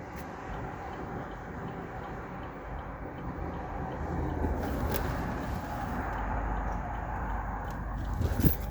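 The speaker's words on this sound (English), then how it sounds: "I gotta wait for this traffic to go by," Road traffic going past outdoors, a continuous broadband rumble that swells in the middle as vehicles pass nearby, steady and moderately loud with no talking.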